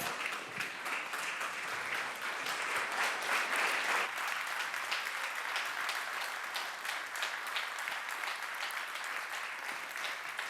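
An audience at an award ceremony claps steadily for about ten seconds, a dense, even roar of applause that stays loud throughout with no talking.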